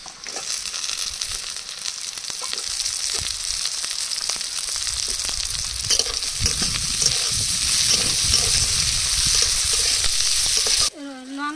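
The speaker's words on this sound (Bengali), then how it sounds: "আর রসুন দিয়ে 2 মিনিট ভেজে নিয়েছি" Chopped onions, garlic and green chillies fry in a pan with a loud, continuous close-up sizzle and scraping stirs throughout, cutting off abruptly near the end.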